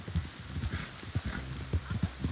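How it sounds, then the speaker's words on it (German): Horse hooves clip-clop steadily in the video game Red Dead Online, a rapid irregular gallop of thuds over a noisy outdoor ambience. "Wow, mein Pferd!"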